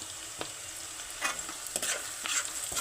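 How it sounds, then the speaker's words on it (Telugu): Onions and green chillies fry in oil in a kadai, a faint, steady sizzle with a few soft stirring scrapes, close by and without voices. "ముందు కళాయి పెట్టుకున్నాను, నూనె వేసాను, ఉల్లిగడ్డ పచ్చిమిర్చి వేసాను. అవి వేగుతున్నాయి."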